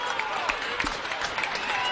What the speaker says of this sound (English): This Westfield crowd's into it now, though.